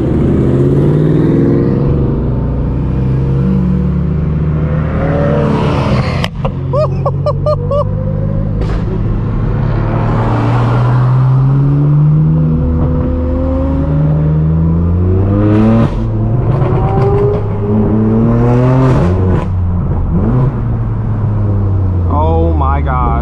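Straight-piped BMW M4 F82 with a loud exhaust, heard from the driver's seat on the road, revving and accelerating repeatedly through rising and falling engine notes, with a sharp crackle partway through and talk over the engine.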